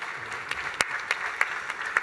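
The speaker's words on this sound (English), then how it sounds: "Again, applause to our guests on the stage." Scattered, fairly quiet applause from an audience at an international tourism investment forum greets guests on stage, with a few sharper individual claps standing out from the soft, thin clapping.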